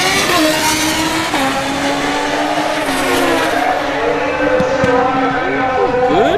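A pink Suzuki Hayabusa motorcycle makes a drag racing pass at a motorsports park, its engine a loud, continuous high-revving roar with shifting pitch that carries steadily through the whole stretch.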